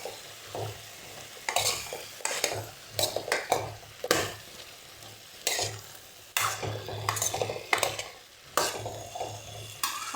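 A spoon scraping and clinking against a pan as turmeric is stirred into frying food, in repeated strokes over a soft sizzle, close and moderately loud.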